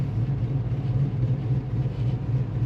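A 1957 Chevrolet Bel Air restomod with a modern LS3 V8 idles close by with a deep, lumpy rumble, its steady lope pulsing unevenly, no voices over it.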